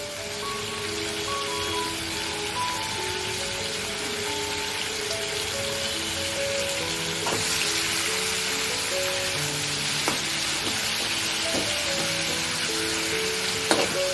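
Prawns fry in hot oil with a steady, loud, continuous sizzle and crackle, a faint tonal hum running underneath and a few sharp utensil clicks scattered across the stretch, no talking.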